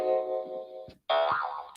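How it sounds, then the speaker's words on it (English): A short alert chime from the MT4 trading platform marks an executed trade: two quick bright twangy tones with a short gap between them, clear and close. "that is the sound of an executed trade live"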